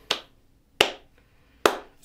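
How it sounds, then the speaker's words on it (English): Three slow, deliberate single claps, sharp and close, spaced evenly about three-quarters of a second apart, with near silence between them. "It's too slow of a clap."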